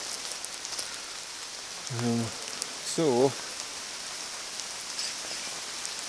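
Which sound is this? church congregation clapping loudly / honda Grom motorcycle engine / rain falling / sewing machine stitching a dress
rain falling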